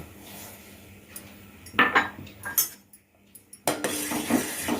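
A utensil scrapes and clinks against a metal pot in irregular bursts, stirring semolina into boiling milk, over a steady low background hum.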